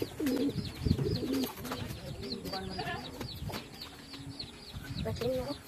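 Racing pigeons returning home to the loft coo in soft repeated rolling calls close by, mixed with wing flutters and clucking, while people talk over them.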